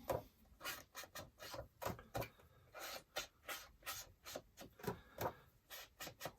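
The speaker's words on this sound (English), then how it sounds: "as you can see, I'm doing the distressing" Paper edges being distressed for a Halloween-themed junk journal, a dry rasping rub repeated in quick irregular strokes, close and steady with no talking.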